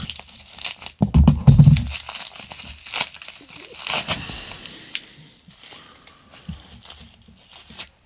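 A small AliExpress parcel being opened by hand, its packaging crinkling and tearing in a brief loud burst early on, then quieter rustles and handling noises scattered through the rest.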